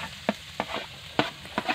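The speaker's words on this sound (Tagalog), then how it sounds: "Haluin ng mabuti." Bamboo shoots being stirred in a pan for adobong labong, a few separate scraping, sizzling strokes up close, spaced apart, with no voices.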